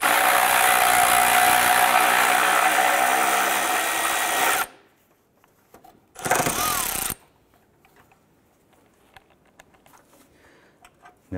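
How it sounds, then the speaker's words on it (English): Under the hood of a 2001-2005 Honda Civic, a power tool loosens a 10 millimeter bolt on the strut tower with a loud, steady whir for several seconds, falls silent, then gives one more short burst. "I'm going to remove this 10 millimeter bolt."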